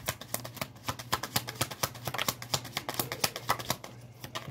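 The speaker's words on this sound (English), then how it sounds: "that's the last shuffle" Playing cards being shuffled during a card reading, a close, rapid run of crisp riffling clicks in bursts, with no talking.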